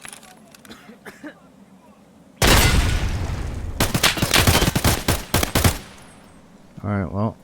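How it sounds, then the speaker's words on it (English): A grenade goes off in the shooter game Escape from Tarkov: a sudden loud blast, then a stretch of sharp gunfire-like bursts, with quiet game ambience before and a short voice at the end. "We gotta try the new grenade."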